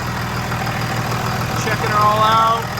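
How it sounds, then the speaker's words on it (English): A truck fitted with a Fleece turbo and 5-inch MBRP exhaust idles with a steady low rumble while a faint turbo whine rises near the end; a voice talks over it. "I think the turbo's getting its sound."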